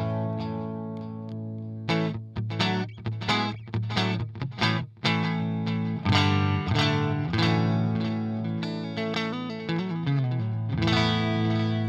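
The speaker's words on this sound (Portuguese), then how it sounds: "Esse aqui é o som do Q-Wave com o pedal desligado." Electric guitar recorded straight through a Q-Wave preamp simulation with the effects pedal switched off. Distorted chords ring out, first in short choppy stabs and then in sustained strummed passages, with no voices.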